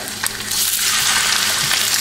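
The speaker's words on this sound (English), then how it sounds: "you can hear that sizzle" Steady, dense sizzling of sea bass frying skin side down in a hot pan, a bright crackling hiss that swells after the first half second and holds.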